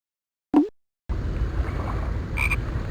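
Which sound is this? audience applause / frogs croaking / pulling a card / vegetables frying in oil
frogs croaking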